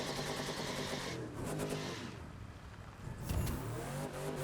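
Cadillac Cyclone concept car in the racing game The Crew 2, its engine revving in a sustained loud roar that dips briefly and then surges again, heard alone without any voices.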